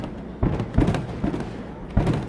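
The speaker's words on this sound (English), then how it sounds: "Still fireworks all around us here. It's creating a deafening sound in this stadium." Fireworks bursting around a baseball stadium during a Mohawk Valley Diamond Dawgs vs. Boonville Lumberjacks game, four booming thuds spaced unevenly over a steady crowd and ambient wash, loud and near.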